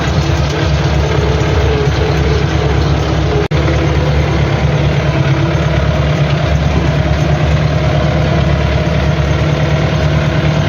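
An MTZ 82.1 tractor towing a seed drill while sowing soy drones with a loud, steady low engine rumble and vibration, close and continuous with one brief dropout.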